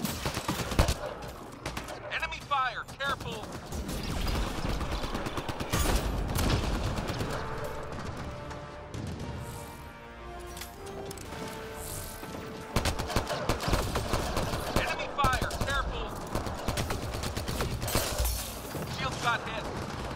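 Gunfire from an Avenger rifle in Mass Effect Andromeda multiplayer, sharp rapid bursts of automatic shots cracking repeatedly over a busy combat soundscape with distant explosions and a brief lull midway before the firing resumes.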